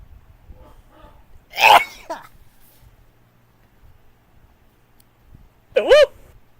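A single sharp sneeze bursts out mid-conversation on a casual podcast recording, followed shortly by a short voiced sound, with low background hum and quiet talk around it.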